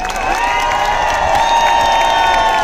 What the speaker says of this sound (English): a great big round of applause for Dr. Mohammed Adil